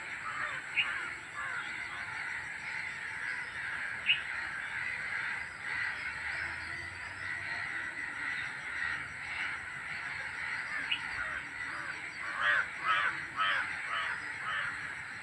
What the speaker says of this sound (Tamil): கூட்டமாக உட்காந்து இவ்வளோ வந்து ஏதோ அதுங்க பாஷையில் என்ன சொல்லுதுங்கன்னு தெரில